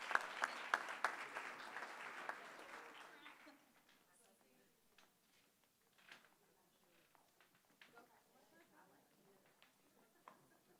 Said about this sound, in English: Give them a round of applause for this thing.